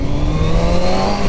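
A motorcycle engine revs steadily and loudly at close range for a short moment as the bike eases off the clutch and begins to pull away.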